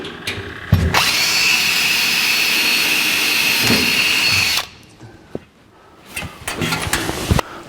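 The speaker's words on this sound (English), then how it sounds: "Drill a pilot hole." Power drill boring a pilot hole through a subframe member in the floor of a 1949 Chevrolet gasser, one loud steady whine of about four seconds, then quiet with scattered clicks and handling noises.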